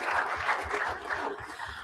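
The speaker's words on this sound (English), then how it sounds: "We're going to clap for you again, and then we'll clap again." An audience at a school board meeting claps for students, a moderate, continuous patter of many hands in a room, brief and fairly even.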